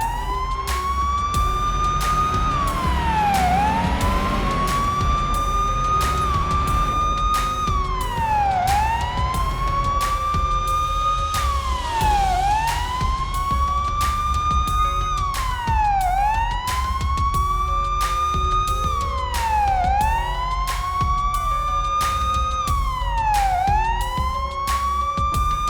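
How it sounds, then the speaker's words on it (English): A police car siren in the video game Police Simulator wails in repeated rising and falling sweeps, loud and continuous, over an engine rumble for the whole stretch. "Lights and sirens on."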